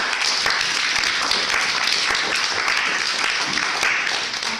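An audience claps together at a team question-and-answer event indoors, with steady, dense applause that keeps going throughout the clip.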